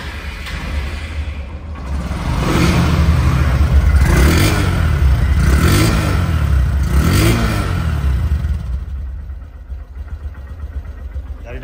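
A Honda Livo motorcycle with CBS brakes, in showroom condition, idles and then revs up in several swelling bursts before settling back to a steady idle, loud and close with no one talking.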